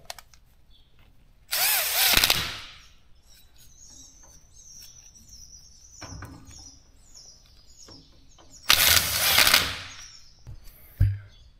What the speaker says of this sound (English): This is a 3/8 impact, and that's still a lot of horsepower for those little bolts there.